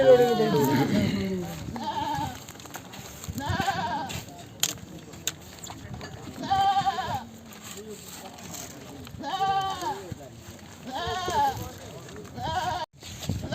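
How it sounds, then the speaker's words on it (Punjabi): Goats bleating at a busy livestock market, several loud, wavering bleats repeating every few seconds while someone talks over the crowd. "ਆ ਬੱਕਰਾ ਆਇਆ ਦੀਪ ਸਿੰਘ ਵਾਲੇ ਮੰਡੀ ਦੇ ਉੱਤੇ"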